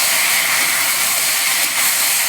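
Boiled elephant apple goes into mustard-seed tempering spices frying in a pan, producing a loud, continuous hissing sizzle that barely changes for the whole moment.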